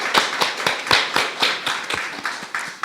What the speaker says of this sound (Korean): 다 같이 박수합시다.